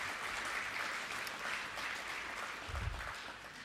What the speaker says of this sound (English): So I think a round of applause for Frank and Brett.